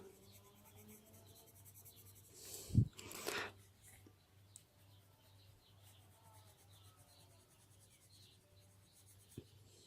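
A colored pencil rubs softly across paper while blending the zones between two colors, making quiet scratchy strokes, with a brief louder scuffing burst around the middle and faint background chirps.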